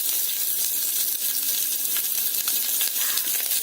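Green chilli and onion sizzle steadily in a hot pan while cooking for sambhar, a constant close frying hiss with faint crackles and no talk.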